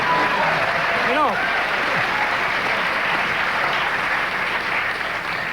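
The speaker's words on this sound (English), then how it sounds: "are applauding this." A late-night studio audience applauds in a continuous, loud wash of clapping, and a brief voice rises over it near the start.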